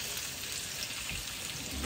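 Pork sizzles steadily in a hot pan with garlic, onion and ginger, a dense, close crackling hiss that holds throughout without talk.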